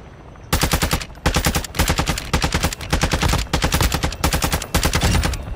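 Rapid automatic gunfire in the Call of Duty DMZ video game, several loud close bursts of machine-gun fire separated by short pauses.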